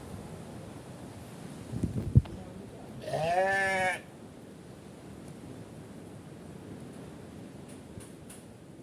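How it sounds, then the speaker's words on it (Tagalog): Two goats beside a beach on a rainy, warm day: one clear, wavering bleat of about a second rises over wind noise, with a brief knock just before. "Guys, may kambing dito, dalawa."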